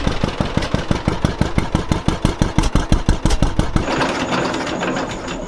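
The engine of a John Deere A tractor fires with heavy, slow, evenly spaced thumps that quicken briefly, then settles into a rougher, steadier running rumble, loud and close.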